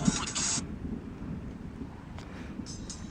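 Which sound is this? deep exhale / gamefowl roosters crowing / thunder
thunder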